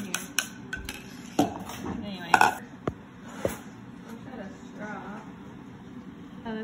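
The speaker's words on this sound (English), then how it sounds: "I'm gonna give it a little stir to kind of get it going" A spoon stirs a homemade coffee drink in a glass, giving a few clinks and scrapes near the start and a sharper cluster partway through, with light kitchen clatter between.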